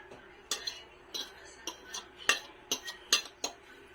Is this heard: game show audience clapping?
no